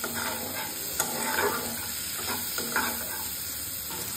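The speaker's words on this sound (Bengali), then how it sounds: "এবার এর মধ্যে দিয়ে দেবো টমেটো কুচি। একসঙ্গে ভালোভাবে ভেজে নেব।" Chopped tomato sizzles steadily with onion in a hot pan, a soft continuous frying hiss broken by occasional scrapes and taps of a spoon stirring close by, with no voices.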